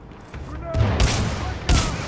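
Gunfire from Titanfall 2's campaign: several sharp, loud blasts with a thudding low end, spaced about a second apart over a steady background of combat noise.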